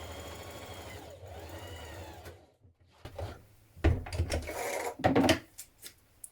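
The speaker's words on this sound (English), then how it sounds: "from the wrong side you're going to stitch across this bottom here" A sewing machine stitches across the bottom of a jacket in a steady whirring run for about two seconds, then stops, followed by a few clunks and handling noises.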